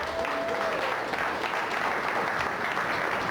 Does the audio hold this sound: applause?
yes